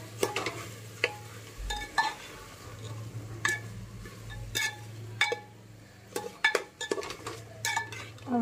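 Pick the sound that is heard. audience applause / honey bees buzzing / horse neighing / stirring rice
stirring rice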